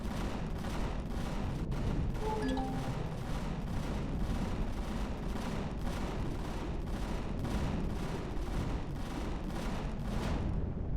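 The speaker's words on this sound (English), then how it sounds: "you can see here with 3 guns firing at it" Continuous rapid gunfire from several guns aimed at a large minigun drone in Empyrion Galactic Survival on a snowy planet, a dense steady barrage of overlapping shots with sharp individual cracks, loud and sustained throughout.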